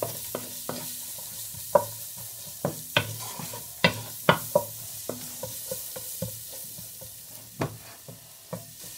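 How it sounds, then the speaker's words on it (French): Ingredients for pumpkin soup are stirred and browned in a pot, giving a soft sizzle under irregular scraping and clinking strokes of the spoon, close by and fairly quiet. "Et on va remuer ça, on va laisser dorer un petit peu"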